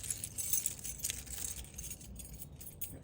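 Keys jangle and clink in a home garage workshop during a small block 383 stroker valve adjustment, light metallic rattling through most of the clip over a low background rumble.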